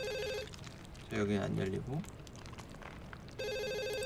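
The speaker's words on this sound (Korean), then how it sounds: "어떻게 자꾸 전화가 오냐." A phone keeps ringing in the Ju-on: The Grudge horror game, bursts of electronic bell tones at the start and end with someone talking in between.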